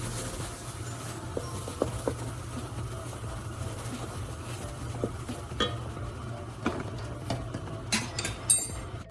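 Maida flour roasting in a pan while a spoon stirs it: scattered scrapes and light metallic clinks at an irregular pace over a low, constant hum, with no voices.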